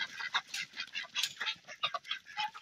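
Ducks on a homestead quack in rapid, overlapping bursts, a busy, fairly faint chorus of short calls with no talking.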